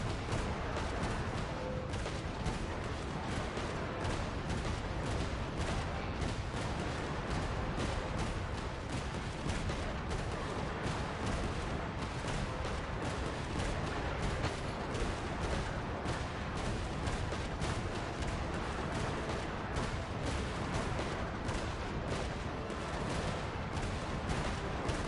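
Cannon fire in a video game comes as dense, rapid booming bursts, a continuous barrage of loud close shots repeating quickly and without pause.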